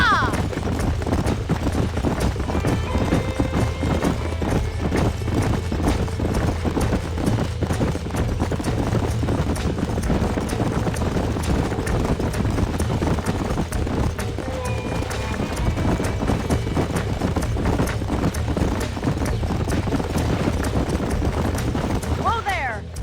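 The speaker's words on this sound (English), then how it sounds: "These are fine horses." Horses' hooves clip-clop continuously in the Western video game Red Dead Redemption, with a steady galloping rhythm and game ambience throughout.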